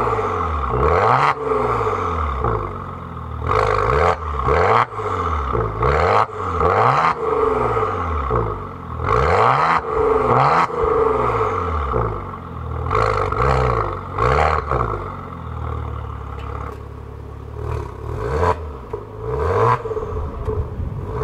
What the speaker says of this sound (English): give you guys a sound bite of the exhaust and give it some revs